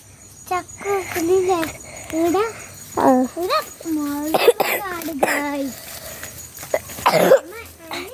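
Someone coughs several times in rough, scattered bursts, mixed with voices talking nearby.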